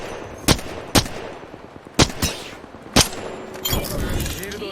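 Spitfire gunfire in the Apex Legends video game, sharp bursts of shots at roughly one-second intervals followed by denser rattling fire, heard alongside players talking.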